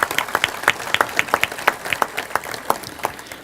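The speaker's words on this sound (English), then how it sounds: "Let's give Rusty a hand of applause here." Light, scattered hand clapping from a small group at a conference general assembly, sharp claps overlapping unevenly for a few seconds with no voices.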